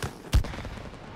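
A single punchy gunshot-like blast from the video game It Takes Two, a short boom that decays quickly with a faint tail.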